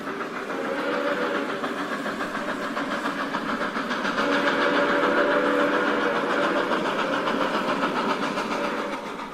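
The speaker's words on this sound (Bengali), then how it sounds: "ট্রেন ছাড়ল রাত্র 10টায়।" A train leaves a station at night, heard as a steady rumbling engine drone with a sustained tonal, whistle-like hum, swelling slightly and holding loud throughout.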